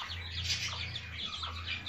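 Soft, low clucking from a broody hen, murmuring continuously at close range with a faint hiss in the background.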